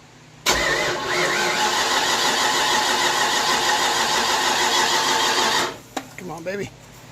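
Car engine starting for the first time since 1999: a sudden crank catches into a loud, steady idle that runs for about five seconds, then cuts off, followed by brief voices.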